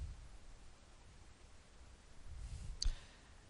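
A single sharp computer mouse click lands near the end of an otherwise quiet stretch of faint room noise.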